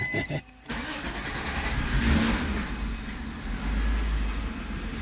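An Acura car engine, with a clutch master cylinder fitted and not started in a long while, cranks and catches, then revs up and settles into a steady, close, loud run for several seconds.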